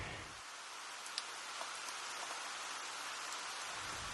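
Rain falls steadily over trees in a wooded yard, a soft, even hiss of drops on leaves and surfaces with a few closer individual drips, fairly faint and heard alone.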